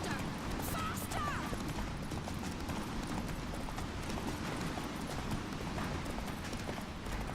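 A horse galloping in The Witcher 3 video game, rapid rhythmic hoofbeats drumming steadily throughout, close and busy, mixed with rushing background noise.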